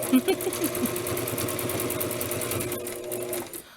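Sewing machine stitching a small Barbie doll dress, a fast steady mechanical whirring and needle chatter close by for a few seconds, slowing and stopping at the end.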